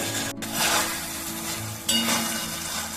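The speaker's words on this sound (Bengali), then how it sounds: "ভালোভাবে পেঁয়াজটা এখানে আমি ফ্রাই করে নেব।" Long-sliced onions fry in a pan for a chicken and new potato curry, giving a continuous close sizzle with two scraping stirs of a utensil against the pan, and nobody speaks.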